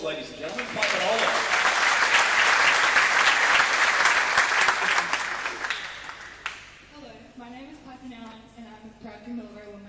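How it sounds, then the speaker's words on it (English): A crowd at a sports academy games event applauds an introduced netball squad member, loud sustained clapping for about six seconds that cuts off, followed by someone talking alone. "Another round of applause, ladies and gentlemen."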